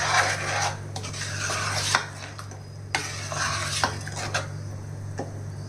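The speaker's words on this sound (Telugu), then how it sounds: "ఒకసారి బాగా కలిపేయాలండి." A spoon stirs punugulu batter mixed with eggs and fresh coriander, scraping and clinking against the vessel in irregular strokes over a low, steady hum and faint sizzling, with no talking.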